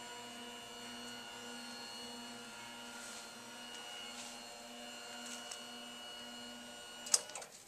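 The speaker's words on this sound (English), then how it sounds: "I'm going to go ahead and use the back of my knuckle to lower Mrs. Smith's bed." Electric motor of a hospital bed lowering, a steady mechanical hum with faint whine held at low level throughout, ending with a brief soft clunk near the end.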